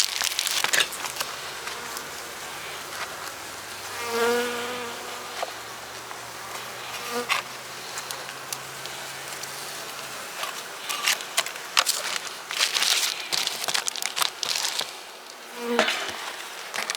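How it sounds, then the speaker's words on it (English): Honey bees clustered in a hive while feeding on sugar hum in a steady, dense buzz that continues throughout. Occasional crinkling and knocking handling noises sound up close, and no one speaks. "These bees are clustered up real nice."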